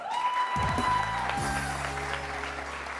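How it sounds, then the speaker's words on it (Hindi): Studio audience applause at a wedding-special TV show, a dense, steady wash of clapping lasting throughout, with a musical sting swelling underneath partway in. "लेट्स से हेलो टू मदिया के लिए बहुत सारी तालियां"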